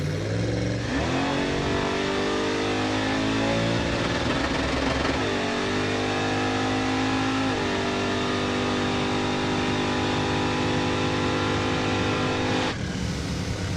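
Chevrolet Impala launching down a drag strip, engine revving hard and climbing through rising gear pulls with shifts, loud and close, the roar cutting off sharply near the end.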